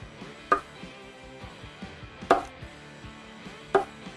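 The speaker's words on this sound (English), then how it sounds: "Chop those up a little bit." A knife chops a peach on a cutting board: three sharp, loud strikes about 1.5 seconds apart, with lighter taps between them, heard close up and alone.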